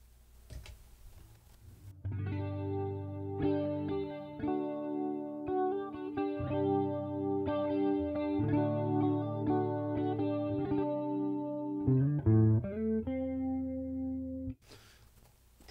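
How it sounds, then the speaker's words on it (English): An electric guitar through a Boss Katana amp plays a melodic line with a shimmering, doubled chorus effect, clear and close, after a brief quiet start. "the first one is going to be just your chorus"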